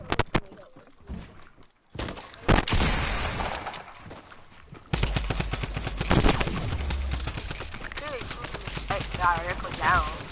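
Gunfire in a video game where aircraft are being shot down: sharp, cracking shots and bursts, some loud and close, over a steady engine-like drone, with a voice talking over part of it.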